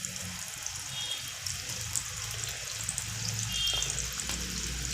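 Corn adai cooking in oil on a pan, a soft, continuous sizzle and crackle held at a low, even level for the whole stretch, close by with nobody speaking.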